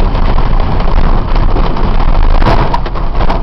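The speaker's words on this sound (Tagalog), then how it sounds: "Ayun, hirap na yung makina mo." A car engine labours under load during a first driving lesson, a loud, steady strained drone close by with a few small knocks and no talk over it.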